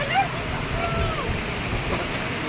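The waterfall at Wawa Dam in Montalban, Rizal, pours with a steady broad rush of falling water, while people talk faintly over it.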